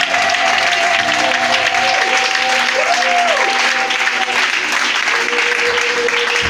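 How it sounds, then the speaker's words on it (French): A church congregation at a revival service applauds and acclaims continuously, a dense, loud, steady wash of clapping and cheering with a sustained musical tone running over it. "Il faut l'acclamer puissant."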